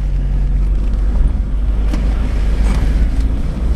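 A car rolls along the Santa Victoria riverbed toward Punco Vizcaína in Salta, Argentina, with a steady low engine rumble and rough drone throughout, close and continuous, with no speech.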